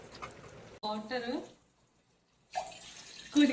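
Water pours into a cooking pan of chicken with coriander powder and ginger-garlic paste in short bursts around a brief silence, with people talking nearby.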